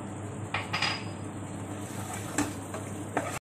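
Curd is stirred into palak paneer gravy in a pan: a spoon scrapes and clinks against the metal in a few distinct strokes over a steady sizzle, close and alone.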